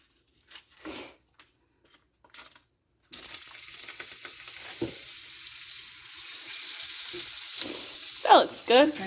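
Food frying in a pan of oil and butter for a Southern breakfast, first a few quiet bumps and pauses, then a steady close sizzle that runs to the end with some scraping and clatter near the finish.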